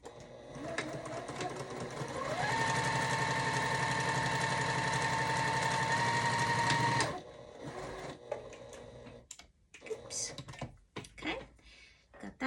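A sewing machine stitches a quarter-inch seam in a fast steady whir that lasts several seconds. It then stops, and scattered handling clicks and rustles follow.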